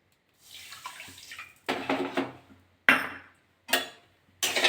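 Water is poured from a bowl onto sugar in a wok over a gas flame for a syrup, coming in several short, splashing bursts separated by silence, close and fairly quiet.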